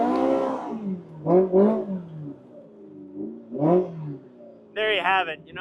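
A Polaris RZR Pro R with an MBRP slip-on sport exhaust revs in three sharp bursts, each climbing and falling away, then a higher, harsher final rip, loud and close with quiet gaps between.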